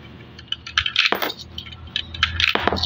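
Coins clink and rattle into the universal coinslot of a coffee vending machine, several sharp metallic drops close by with small bursts of jingling.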